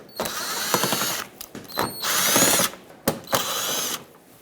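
A power drill spins out Phillips head screws from a Nissan Altima bumper, with several short whirring bursts of the motor, rising and falling, separated by brief pauses, close and clear.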